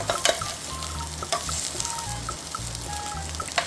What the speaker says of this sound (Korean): 전분 묻힌 가지를 넣고 중불에서 볶아주세요